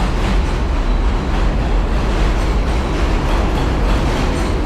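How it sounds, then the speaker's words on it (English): New York 7 subway train running on the elevated track over Roosevelt Avenue, a loud, dense, continuous roar and rattle of wheels and cars passing close overhead without letting up. "Above me is the 7 train."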